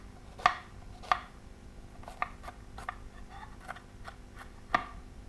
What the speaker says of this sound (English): This is how I cut an onion anyway.